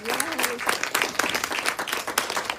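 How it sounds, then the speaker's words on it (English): A panel discussion audience gives a big round of applause, dense and steady clapping from a crowd for the whole stretch, loud and close. "Steve, a big round of applause for Kelly Perry, Brent Smith, and Roy Boyd"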